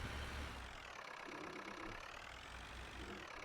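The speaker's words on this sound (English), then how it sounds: "I know this tractor can be incredibly loud" Tractor engine idling in Farming Simulator 19, a steady, continuous low mechanical drone running alone at moderate distance with no talk.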